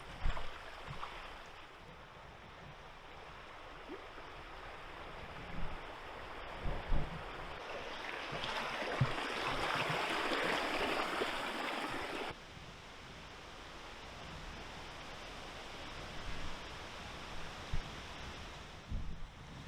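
The River Barle on Exmoor flows beside a valley path as a steady broad rushing wash, swelling louder for a few seconds midway, with occasional soft footsteps or knocks near the listener.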